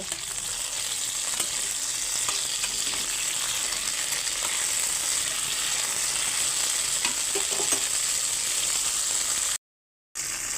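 Okra slices frying in a pan give a continuous bright sizzle with occasional stirring, close and steady, no talking, cutting out briefly near the end.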